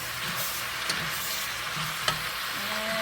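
Cabbage cooking in a pan, with a low continuous sizzle and a couple of soft stirring scrapes close by, no speech.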